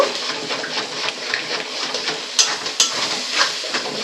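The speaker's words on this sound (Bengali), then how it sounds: "ডিম দুটো কিন্তু আমি এর সঙ্গে আবারও একটু কষিয়ে নেব" Spice paste and two cracked eggs stir-frying in a pan for a spicy cauliflower curry, a soft steady sizzle with light scraping stirs and a couple of sharp spatula taps against the pan.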